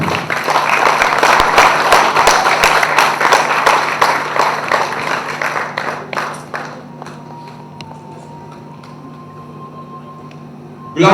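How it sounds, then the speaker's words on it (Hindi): Loud, dense audience applause rises at a stage trailer launch event for a Bhojpuri film, sustained for several seconds before thinning out and fading, with a steady tone lingering after. "बहुत जोरदार तालियों के साथ हम स्वागत करेंगे, अभिनंदन करेंगे आप सबके चहते मेरे प्यारे बड़े भैया अभय सिन्हा जी"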